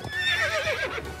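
A horse in the Star Stable Online game whinnies while rearing, one short, clear neigh with a wavering pitch, heard alone and close.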